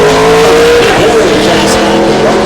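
A race car engine roars loudly during an ARCA restrictor plate stock car race, a sustained near drone with shifting pitch as cars pass, while a commentator talks over it.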